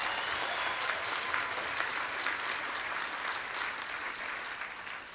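A press dinner audience applauds continuously in a dense, steady wash of clapping, fairly close and sustained throughout without pause.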